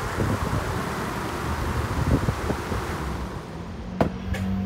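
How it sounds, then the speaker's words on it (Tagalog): Wind buffets a microphone outdoors, a steady broadband rumble for several seconds before easing, with a brief sharp knock near the end. "May hangin."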